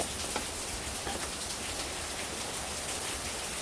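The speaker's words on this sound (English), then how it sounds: "It's raining cats and dogs." Heavy rain pours steadily, a dense, continuous hiss of drops striking surfaces close by, with no voices.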